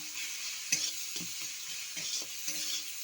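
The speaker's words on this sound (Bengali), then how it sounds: "দিয়ে বেশ ভালো করে নেড়ে নেব" A spoon stirs fish curry with turmeric in a sizzling pan, the frying hiss continuous under a few distinct scraping strokes against the metal.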